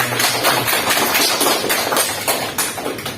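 A class of schoolchildren claps together, a dense and loud burst of applause that holds steady for a few seconds, close by in the classroom.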